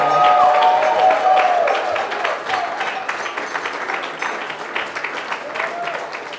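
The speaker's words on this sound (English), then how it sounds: "let's give a big applause for all of our volunteers" A crowd at a mayoral campaign launch claps for the volunteers, a loud, dense burst of applause that gradually thins out while a voice talks over it.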